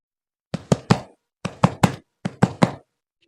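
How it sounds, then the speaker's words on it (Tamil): Knuckles rap on a wooden house door in three quick bursts of three knocks each, close and fairly loud, with short pauses between groups and no talking. "யாரோ கதவு தட்டுறாங்களே"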